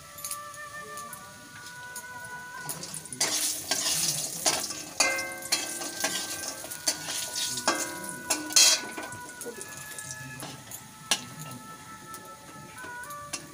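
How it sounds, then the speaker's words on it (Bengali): Homemade lentil dumplings (bori) made with ash gourd frying in oil in a wok, a steady close sizzle with scattered crackles and bursts of spatter, plus the occasional clink of a utensil against the pan. "এই আমি কড়াইতে তেল দিয়েছি, কটা বড়ি দিয়ে দিলাম"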